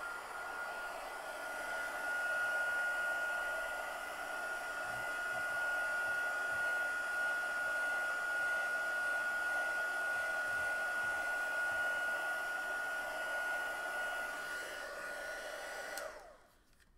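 A hair dryer blows steadily and loudly for about sixteen seconds, drying a chalk drawing of a carrot on a chalkboard, with a constant whining hum before it cuts off abruptly near the end.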